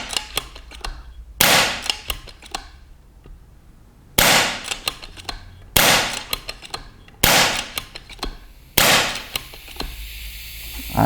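A series of sharp, loud shots from an FX Maverick air rifle, about six, spaced a second or two apart, each a sudden crack with a brief ringing tail, no talking.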